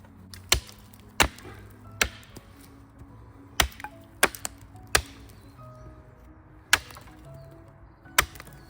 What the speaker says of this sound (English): need to sharpen off the bottom of this Y stick I've got